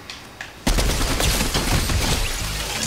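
A sudden, loud burst of rapid Fortnite gunfire breaks in after a short quiet moment and keeps going as dense, continuous shooting.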